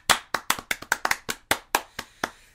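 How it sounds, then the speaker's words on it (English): A light round of golf claps from a single pair of hands, about a dozen crisp claps in a loose, slightly uneven rhythm, close and clear with no talking. "That's another round of golf claps for Gabriel Stroud."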